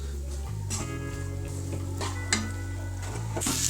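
Sliced okra frying in a pan with salt, stirred with a utensil: a low steady sizzle under a few scraping and clinking stirs, close and fairly quiet, no talk.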